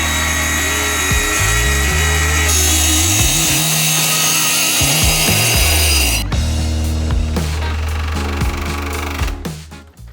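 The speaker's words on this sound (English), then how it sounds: "let's come over here and cut this end panel and finish this cabinet right here" A power saw cuts through a cabinet end panel, a loud, steady whine with shifting pitch for most of the span, changing tone partway as the blade works the wood, then winding down near the end.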